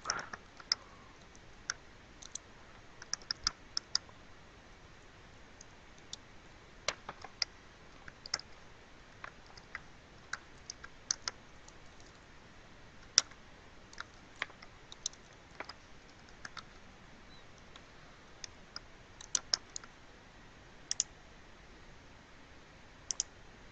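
Computer keyboard typing while entering an IPv4 address in network settings: sparse, irregular clicky keystrokes in short bursts over a quiet background, close and fairly soft.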